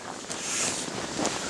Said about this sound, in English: I'm just getting these gusts of wind.